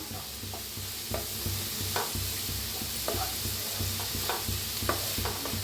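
Chilli seeds roasting in a pan, with a steady soft sizzle and the occasional scrape of stirring, fairly close and with no talk.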